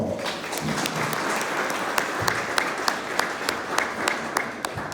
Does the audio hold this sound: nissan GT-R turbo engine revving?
no